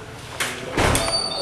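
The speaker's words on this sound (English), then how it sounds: "Oh, I locked your door." A door being shut and locked, with a sliding rush followed by a bump and a brief metallic click of the latch, close by with faint voices.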